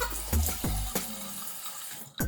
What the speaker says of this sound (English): I have some nice little warm water.